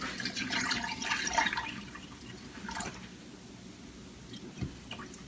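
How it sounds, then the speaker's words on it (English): Water splashing and trickling into a Vitamix blender jar being filled toward 8 cups, a close, fairly busy pour at first that eases into quieter dripping and settling, with no talking. "And water. I'm going to fill this thing up to 8 cups on this Vitamix"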